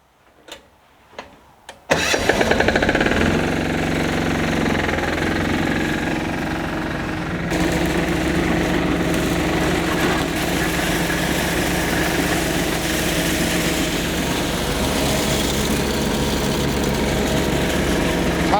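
A diesel-fuelled bean thresher engine cranks briefly after a few clicks, catches and settles into a loud, steady close-up running drone that grows slightly fuller partway through, with no talking.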